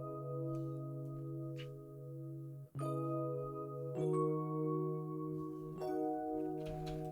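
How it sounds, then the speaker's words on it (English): A warm Model V Rhodes electric piano from the Lounge Lizard EP4 plays soft sustained chords that shift every few seconds, mellow bell-like tones ringing quietly and alone. "And these roads are from the Lounge Lizard EP4"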